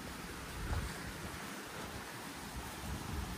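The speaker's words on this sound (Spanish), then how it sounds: "Qué bonito se escucha el agua escurrir, ¿verdad? En la barranquita." Steady rushing water flowing down a small ravine nearby, a broad continuous wash of noise with faint wind buffeting, no voices.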